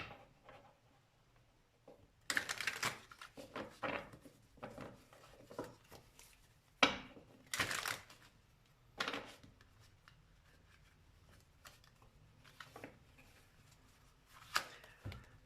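Tarot cards being drawn and shuffled at a table: quiet room tone broken by short, crisp bursts of flicking and sliding cards, irregular and close, with soft taps between.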